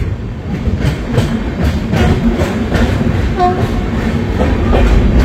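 The Puri Shatabdi Express rumbles at Bhubaneswar station, a loud steady low roar with a regular clickety-clack of wheels over rail joints.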